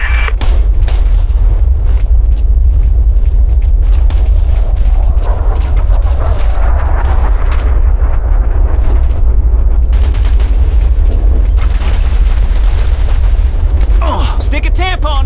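Artillery fire mission in the military shooter Operation Flashpoint: Red River, loud continuous booms and rumbling blasts mixed with gunfire, with voices shouting over the barrage.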